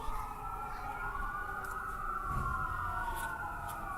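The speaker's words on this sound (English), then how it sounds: "Sirens going off from the firehouse located very close to George Taylor." Sirens wail from a firehouse near a baseball field during a playoff game, a steady rising and falling tone heard at a distance and held throughout, with no talk over it.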